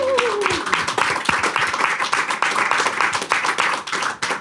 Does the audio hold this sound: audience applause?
yes